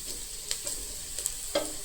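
Dried red chillies fry in oil with garlic, giving a soft, close sizzle punctuated by a few sharp pops and spatters.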